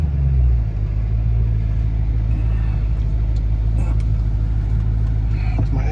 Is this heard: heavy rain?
no